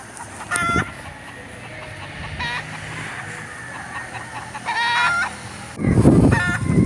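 Several gamecock roosters crow in bursts, with hens clucking throughout, fairly close and loud against a busy breeding farm background.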